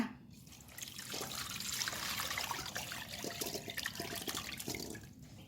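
Mango-boiled water poured and strained through a sieve, a steady close trickling and splashing of liquid that swells and continues without pause.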